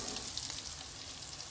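Cauliflower pieces frying in hot oil for a tajine, a steady dense sizzle with crackling spatter throughout, close and continuous with no talking.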